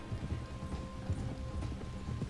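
Horse hooves clip-clop in a steady walking rhythm in Red Dead Redemption 2, moderately close, with a low rumbling ambient bed and no talking.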